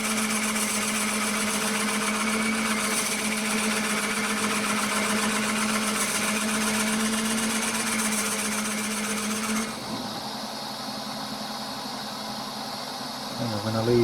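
A blunt 2-inch bit bores into cherry or oak hardwood under a steady droning motor hum that shifts to a lower, rougher tone near the end.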